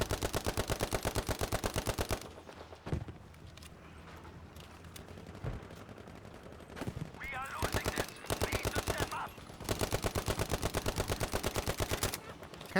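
Rapid bursts of 9mm submachine-gun fire in the World War II shooter Battlefield V, loud and close, coming in three long strings of fast shots separated by quieter battlefield noise.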